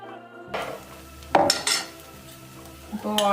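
Green moong dal dosa batter going onto a hot griddle, with metallic scrapes and clinks of a ladle or utensil against the pan and a light sizzle, close and intermittent, no talking.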